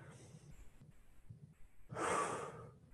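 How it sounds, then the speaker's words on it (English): A person breathes deeply, with a few soft nasal inhales followed by one long, loud, airy exhale through the mouth, close and without speech. "Take that deep breath. In through your nose, out through your mouth."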